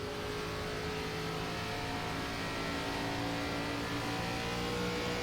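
NASCAR Gen 4 stock cars race at The Rock oval in iRacing, engines droning steadily and loudly throughout with a dense, continuous roar of several cars running together.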